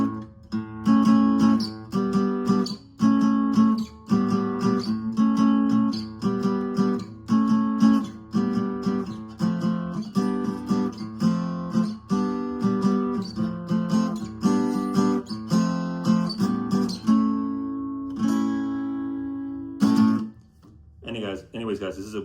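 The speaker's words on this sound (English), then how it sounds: "So the song would go something like this." Guitar playing a song in standard tuning without a capo, a steady rhythmic strummed pattern of repeated chords, close and clear, stopping near the end.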